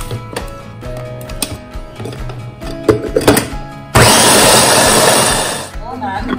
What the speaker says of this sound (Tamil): உப்பு போட்டுட்டு கொஞ்சம் கொஞ்சமாக அரைக்க போகிறேன்.